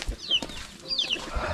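Chickens cluck on a rice farm in Iloilo during the palay harvest, giving a few short, rising calls at moderate distance over faint outdoor background noise.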